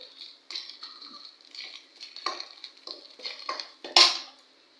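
Curry leaf powder stirred in a frying pan, soft sizzling under a run of spatula scrapes and taps, ending in one sharp louder clank.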